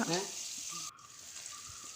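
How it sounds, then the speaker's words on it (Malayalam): Coconut oil goes into a hot pan and sizzles, a bright hissing burst at the start that settles into a quieter steady crackle, close and alone. "ഇതിലോട്ട് വെളിച്ചെണ്ണ ഒഴിച്ചു കൊടുക്കുക"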